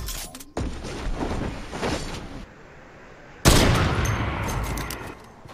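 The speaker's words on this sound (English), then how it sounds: "Is that the same guy shooting over there?" Gunfire in the video game Fortnite crackles in two loud bursts of rapid shots, the second louder and closer, with a quieter stretch between and no talking.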